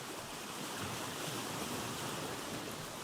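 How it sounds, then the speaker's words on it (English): Steady rolling ocean surf washing against a ship deck in the Vintage Story survival game, a continuous broadband wash of water with wind, close and constant, no voices. "The sound of the rolling ocean crashing against the deck."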